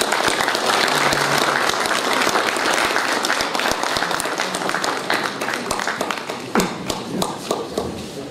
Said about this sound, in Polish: I za to należą się brawa tej ekipy